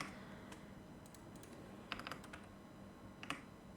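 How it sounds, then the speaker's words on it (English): Computer keyboard typing while entering a search for invitation templates in a design app: a few quiet, scattered keystroke clusters, faint and close, with no talking. "So I'm just going to type in invitations."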